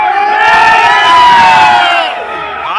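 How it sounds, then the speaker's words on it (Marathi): Thousands of Maratha marchers cheer in a loud, dense crowd roar with overlapping shouts and whoops, swelling in the middle before easing slightly and rising again at the end. "तुम्ही जल्लोष करताय"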